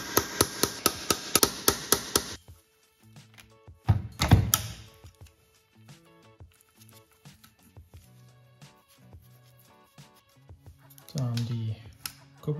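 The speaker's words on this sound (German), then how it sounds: "ich werde auch ein paar Schläge drauf geben auf die Schrauben, dass sich das vielleicht ein bisschen lockert." Hammer blows on the screws of a Yamaha SR500 engine during teardown, a quick series of sharp, loud metallic strikes at the start, then a heavier knock and scattered quieter clanks, with a person talking between them.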